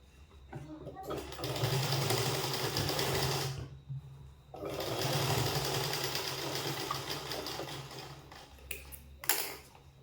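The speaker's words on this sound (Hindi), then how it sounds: "तो इस मार्किंग पे मैं एक सिलाई कर लूँगी।" Electric sewing machine running steady bursts of stitching along the elastic waistband of twelve-panel palazzo pants, loud and continuous with a short pause midway and a brief stop near the end.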